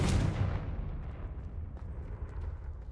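A Confringo spell explosion in the video game Hogwarts Legacy bursts as a single loud boom at the start, then fades into a low rumbling tail.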